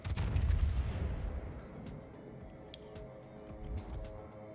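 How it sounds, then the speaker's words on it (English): A heavy naval gun salvo in World of Warships booms loudly at the start and rolls off into a long rumbling decay, with fainter distant shots and crackles following across the rest of the stretch. "That is a good salvo on the Ohio."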